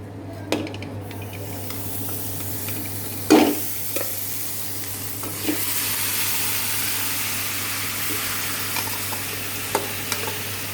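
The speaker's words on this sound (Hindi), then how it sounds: "इस मलाई को मैं डायरेक्ट गैस पर गर्म करके घी बनाने वाली हूँ।" Milk cream (malai) heats over a direct gas flame in a thick-bottomed kadhai to make ghee, giving a steady soft sizzle with a few clanks and scrapes of stirring, close by and with no voice.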